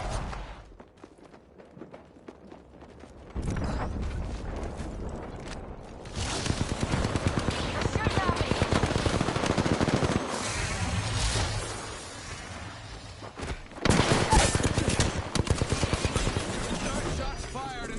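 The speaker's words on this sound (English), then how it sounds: "Shots fired and they're hitting me." Gunfire in Apex Legends comes in dense, rapid bursts that swell and fade over the whole stretch, with voices talking in and around the shooting.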